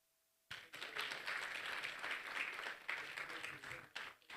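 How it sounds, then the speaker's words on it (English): Audience applause at a pitch competition and awards event breaks out suddenly after a brief quiet moment, then holds as sustained, moderately loud clapping from a sizeable crowd with a few sharper individual claps. "Please a round of applause for him"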